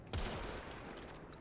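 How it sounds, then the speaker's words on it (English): A single sharp Rubico Prime sniper rifle shot in Warframe cracks out close and loud, trailing into a lingering rumble with faint clicks and game effects after it. "The Rubico Prime, obviously being a great sniper rifle, takes them out like they weren't really ever there"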